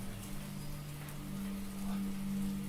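Steady rain patters on a surface throughout, a soft continuous hiss with a low hum underneath and no voices.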